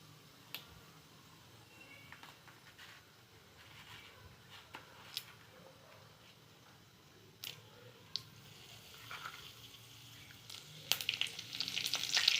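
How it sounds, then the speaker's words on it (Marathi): Cumin seeds and curry leaves, with broken Byadgi chillies, tempering in hot oil for kadhi, give a low steady sizzle with scattered pops and crackles that grow busier and louder toward the end, with no talk. "जिरा त्याची फोडणी देणार आहोत। मग कढीपत्ता टाकणार आहे। तेल चांगलं कडक होऊन द्यायचं आहे।"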